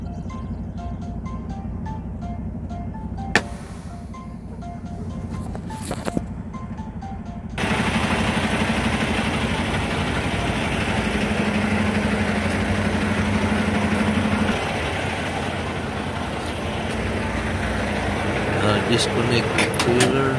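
Semi truck diesel engine idling and rumbling while backing up a flatbed trailer, with sharp clanks and knocks early on, then the engine louder and steady, with a person talking over it.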